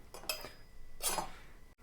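Silver spoons and knives clink together in two short bursts of bright jingling, close by and fairly quiet, at a Sunday flea market in Lviv.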